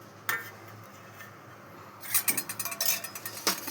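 A bowl being picked up at a Bengali home lunch setting, followed by a rapid run of dishes and cutlery clinking close by, with a quiet stretch before the clatter.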